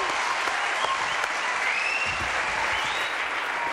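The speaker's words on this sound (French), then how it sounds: "Applaudissements pour elle." Studio audience at a French television show applauds steadily, a dense wash of many hands clapping at an even level for several seconds, with no voices over it.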